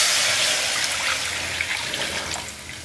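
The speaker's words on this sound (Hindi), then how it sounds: "इसमें हम सबसे पहले 1/2 लीटर पानी ऐड करेंगे।" Half a liter of water pours into a pan on a lit stove for tamarind sherbet, a steady, close splashing rush that fades slightly toward the end.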